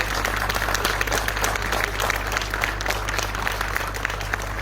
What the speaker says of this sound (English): Let's have a huge round of applause for Frances, please.